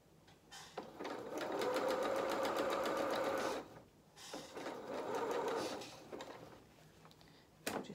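A sewing machine stitches along the fabric body of a fur-trimmed toy jacket, running in two steady bursts of rapid needle rhythm with a short pause between, and a small clack at the end.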